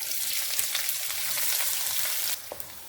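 Chopped onions sizzle loudly in a pot for coconut fried rice with a steady frying hiss, broken by a few stirring clinks and scrapes near the end.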